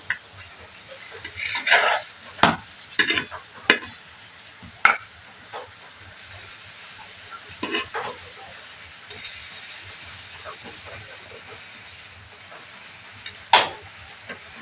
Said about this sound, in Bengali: এইভাবে চেপে চেপে একটু ভেজে নিতে হবে